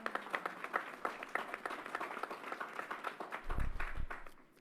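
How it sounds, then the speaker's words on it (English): A public event audience applauds New York State: a faint, steady patter of many hands clapping for several seconds, with a few low thumps near the end before it fades. "Let's give New York State a round of applause."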